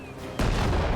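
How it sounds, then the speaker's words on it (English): Mark 2 grenade exploding in Classified: France '44, a sudden loud boom that breaks in after a low hum and rolls on as a heavy, sustained blast. "Mark 2 grenade. There we go."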